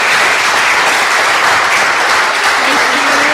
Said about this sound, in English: I think Nadia should have another round of applause for standing up here